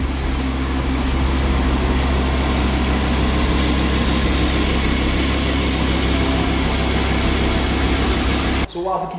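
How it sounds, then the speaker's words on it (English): A 610-horsepower Audi R8 coupe engine idles steadily and loudly close by, a deep continuous rumble with a constant tone that cuts off abruptly near the end. "610 brake horse. A beautiful engine."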